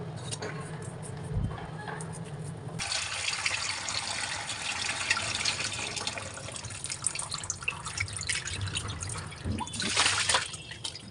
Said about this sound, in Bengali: এখানে আমি 6-7টার মতো চাবা শুটকি নিয়েছি। বেশ খানিকটা লবণ দিয়ে খুব ভালো করে ধুয়ে নেব।